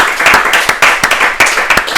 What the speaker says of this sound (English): Please, let's give him an applause as we welcome him.